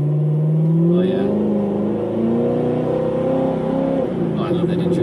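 A car engine revs up and settles, rising and falling in pitch at close range, with a person talking over it.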